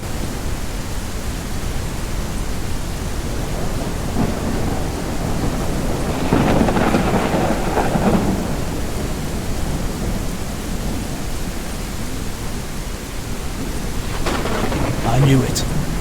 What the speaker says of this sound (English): We really are in a storm here.